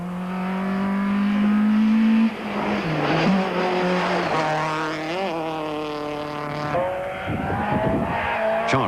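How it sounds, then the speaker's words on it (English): A Nissan Sentra Coupe rally car runs hard along a quick rally stage, its engine screaming close by, then dropping and climbing again through rapid gear changes and revs. "Leon Boerter's Sentra Coupe shows good form on these quick roads"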